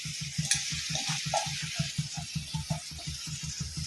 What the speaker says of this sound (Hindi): बटर हमर पिघल चुकल है। आब एहिमे एकटा बड़का प्याज के मेही से काटि के